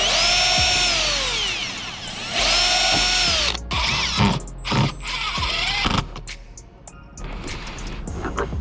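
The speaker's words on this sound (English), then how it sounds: "I pre-drill my holes from there" A power drill whines at high speed in several bursts, pre-drilling holes in porch base molding, with short pauses, clunks and bits of handling noise between runs, close and loud.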